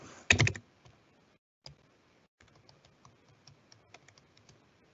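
Close computer keyboard typing: a dense, loud burst of clicks at the start, then after a short pause a scattered run of lighter, quieter keystrokes.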